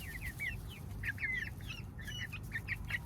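Backyard hens cluck in short, bright repeated calls, fairly faint and close, with a few quick bursts together over a quiet background.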